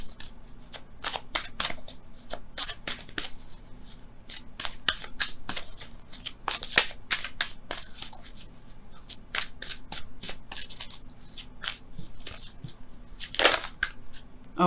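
Romance angel oracle cards being shuffled by hand, a long run of quick crisp riffling snaps and flutters, close and steady, with no voices.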